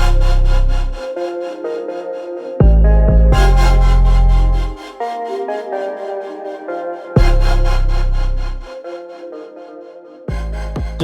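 A saw cuts through the rear exhaust back box of a SEAT Ibiza FR in long, loud, rasping strokes, each pass grinding harshly before short pauses between cuts.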